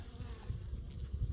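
Honeybees buzzing close by near a hive during a fall die-off, a low, continuous droning hum with small swells, faint and with no voices.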